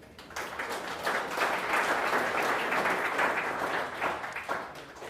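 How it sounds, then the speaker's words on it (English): A crowd at a national Blue Flag and Green Coast environmental awards ceremony gives steady, dense applause lasting several seconds, heard from within the room. "Another round of applause"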